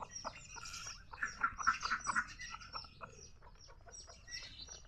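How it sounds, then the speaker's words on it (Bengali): A chicken clucks in a short burst of calls near the middle, moderately close, with quieter bird chirps and faint household background around it. "এই যে মুরগি এসছে, এই যে মুরগি।"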